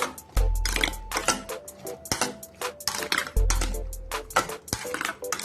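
A spoon stirs curd in a bowl for cucumber pachadi, giving a quick run of clinks and scrapes against the bowl, with two heavier knocks among the steady clatter and no talking.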